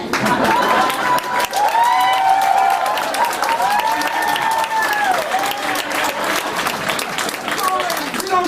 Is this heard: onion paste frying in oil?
no